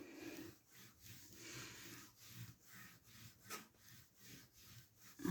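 Card paper is folded and burnished by hand, giving a quiet rhythmic rubbing and scraping in repeated strokes, close and soft.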